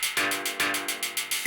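A drum loop runs through Ableton Live's Resonator effect, producing rhythmic pulses with a ringing, tonal metallic sustain that repeats steadily and evenly throughout, with no talking.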